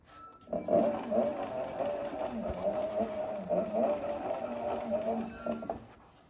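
A sewing machine back stitching a seam on a leather tote runs in a close, loud, continuous mechanical whir with a steady hum and slight rhythmic rattle, then stops after about six seconds.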